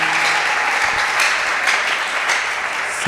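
A church congregation applauds Jesus at a Thursday worship service, loud sustained clapping from a full room, dense and steady throughout with no pauses.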